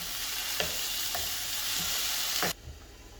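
Tomatoes frying with golden-brown onions for chana chaat, a steady bright sizzle with several spoon scrapes against the pan, close up and without talk, until it cuts off abruptly near the end.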